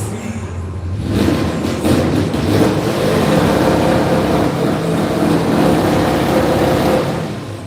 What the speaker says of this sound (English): Quick little rev check before the finals over there.